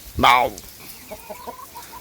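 A loud, close rooster call bursts out, followed by a series of softer, quick clucks from fowl nearby.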